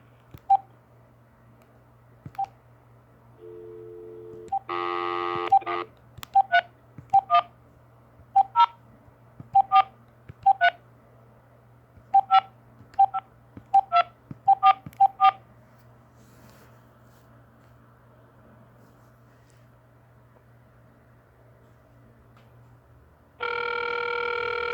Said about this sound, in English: I'll call your cell phone then